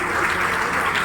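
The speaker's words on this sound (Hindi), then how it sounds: "बच्ची के लिए जोरदार तालियां।" Loud, dense applause from an audience cheering a schoolgirl at a Mission Buniyad orientation program in Kaithal, a steady wash of many hands clapping without pause.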